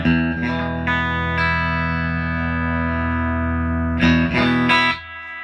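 Electric guitar on the bridge pickup played through a Vintage Sound 35sc amp set clean with reverb: a ringing sustained chord that slowly decays, then a few quick strummed chords near the end, loud and close.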